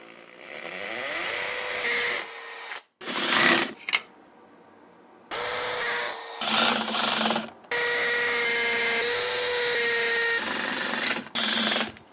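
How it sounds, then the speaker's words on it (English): A loud electric drill in hammer mode runs in long, rough bursts with brief pauses between, its motor whine mixed with a rapid rattling hammer action, close by, while drilling holes for Tapcon screws. "This is what the hammer mode is for on your electric drill."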